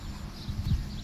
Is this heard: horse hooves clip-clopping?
yes